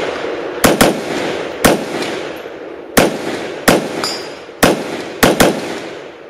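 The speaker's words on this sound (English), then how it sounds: "I'm going to try to do a double tap on the steel at 100" An AR rifle fires quick double-tap pairs at a steel target 100 yards away, each pair two sharp cracks close together, repeated several times with short pauses between volleys; a faint metallic ring follows some shots.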